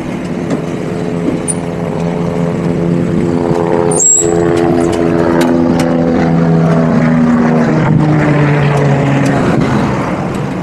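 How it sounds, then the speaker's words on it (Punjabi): Low-flying helicopter passing overhead in the UAE during an early-morning cycle ride, a loud, steady engine and rotor drone that fills the whole stretch with a shifting whine. "ਹੈਲੀਕਾਪਟਰ ਆਉਂਦਾ ਆਪਣੇ ਉੱਪਰ ਬਹੁਤ ਨੀਵਾਂ ਉੱਡੀ ਜਾਂਦਾ"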